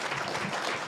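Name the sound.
audience applause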